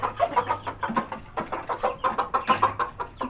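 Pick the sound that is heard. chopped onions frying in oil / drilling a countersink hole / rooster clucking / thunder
rooster clucking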